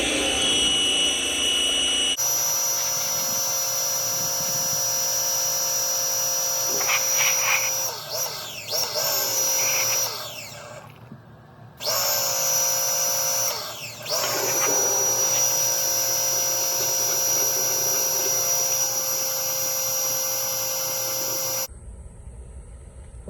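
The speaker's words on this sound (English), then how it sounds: "electronic pressure washer, check. Dirty tranny, check." An electric pressure washer sprays a dirty transmission, a loud steady high-pitched whine and hiss that cuts out briefly twice and then resumes.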